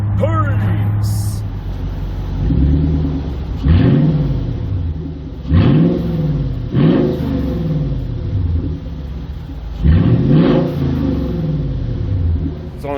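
A Toyota Tundra with a 4.6L engine and muffler-delete exhaust revs repeatedly, each loud, close blip swelling and dropping away in a rumbling roar, with a voice talking over the rumble.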